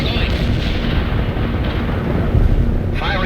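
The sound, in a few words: artillery barrage in World in Conflict video game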